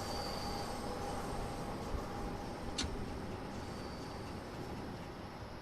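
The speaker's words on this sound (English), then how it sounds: "The trains that operate are the oldest on the network, taking their name from the year they were introduced, 1972 tube stock." A London Underground 1972 tube stock train in the Train Sim World 2 video game rumbles along steadily at low volume, with a faint tonal whine and a brief metallic ping partway through.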